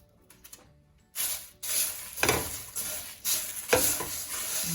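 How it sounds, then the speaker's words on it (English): Whole spices and bay leaves for garam masala are dry-roasted and stirred in a pan on low heat, producing bursts of rattling, scraping shuffles with a light sizzle that begin after a quiet start and repeat closely. "Low heat and leave them roast until you start smelling your spices, but don't burn them"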